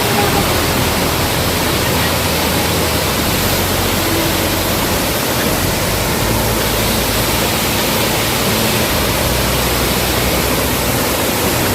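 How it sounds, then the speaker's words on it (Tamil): Kumbhavurutty waterfall at Achankovil, Kerala, pours water heavily in a steady, loud, broadband roar that stays constant throughout with no pauses. "நல்லா தண்ணி விழுதுங்க"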